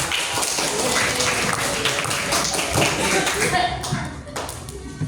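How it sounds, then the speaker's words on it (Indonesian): Classroom group applause for a presenting student group, dense broadband clapping from many hands filling the space, sustained and fairly loud before thinning out near the end, with some voices mixed in. "Oke, beri tepuk tangan untuk kelompok."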